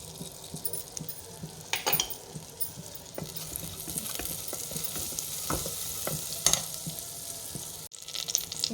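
Cumin seeds hit melted butter in a pan for broccoli soup and fry with a steady close sizzle, stirred with occasional light clinks of a utensil against the pan.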